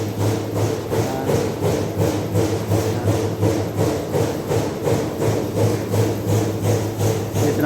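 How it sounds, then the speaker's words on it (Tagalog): Steady rhythmic scraping of a weld seam being cleaned, likely with a wire brush or file, repeating at an even pace and fairly loud, with no talking. "Ito yung ating na welding, lilinisan na natin."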